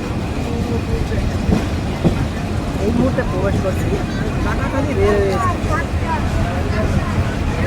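The Mongla Commuter train rolls into Katakhali railway station with a loud, continuous rumble and rattling wheel noise, faint squeals rising over it, while someone speaks nearby throughout.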